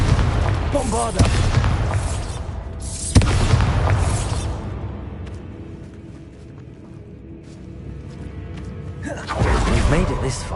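Heavy booming blasts from the Bombarda spell in Hogwarts Legacy, with a sharp burst near three seconds and others around one and ten seconds, each decaying into a rumbling tail over a quieter background.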